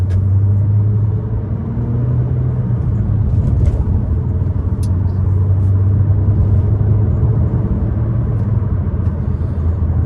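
A 2014 Peugeot RCZ driving through its gears, a loud, close engine hum with road rumble from inside the cabin, the note dipping and rising slightly as gears change.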